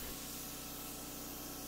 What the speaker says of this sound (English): I spray 3 coats of the polyurethane, allowing it to dry at least 2 hours in between each coat